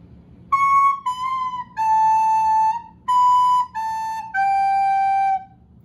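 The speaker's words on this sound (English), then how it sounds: "That's a recorder." A recorder plays six clear, breathy notes in a short descending phrase, each tone held briefly with small gaps between them.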